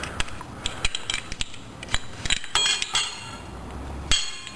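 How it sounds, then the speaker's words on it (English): Metal brake pads worked free of a sportbike brake caliper, a close run of sharp metallic clicks, taps and scrapes in an irregular rhythm with no talking. "you should just be able to pull the brake pads out"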